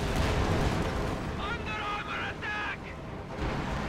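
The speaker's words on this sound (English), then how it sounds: "Heavy artillery going down." Heavy artillery explosions in the Company of Heroes 2 video game, a dense, loud, rumbling barrage of booms that runs unbroken throughout, with brief higher whistling tones midway.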